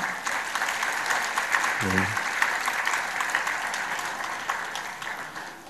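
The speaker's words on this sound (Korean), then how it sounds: "우리 큰 박수 한번 하시기 바랍니다." A church congregation gives sustained, broad applause that fills the room from start to finish, with a brief spoken word partway through.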